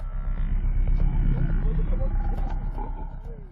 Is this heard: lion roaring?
yes